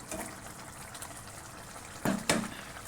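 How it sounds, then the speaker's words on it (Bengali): Dishes being washed under running water in a home kitchen, with a soft steady trickle and two sharp clatters of utensils near the end. "বাসন কোসন মেজে নিই"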